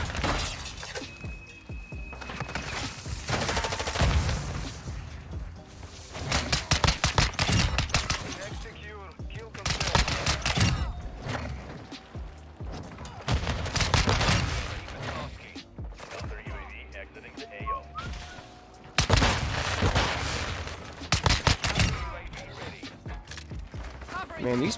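Pistol gunfire in a video game, heard as bursts of sharp, rapid cracks with mechanical clatter, grouped in loud clusters with quiet gaps between them, while a person talks.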